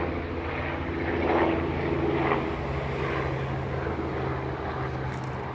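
A red helicopter flies overhead, its steady engine and rotor drone holding fairly loud and constant throughout, swelling slightly in the middle as it passes.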